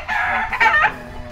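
A Harold Brown Grey broodcock rooster at a gamefarm gives a loud, close crow-like cackle, a short burst broken into two strained calls lasting about a second.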